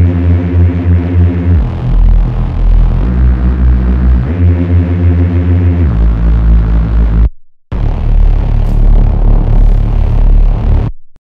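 Reese bass synth patch built in Serum, played legato in mono: thick, buzzing low tones with gliding note changes and dense harmonics, loud and continuous, with a brief dropout near the end before resuming.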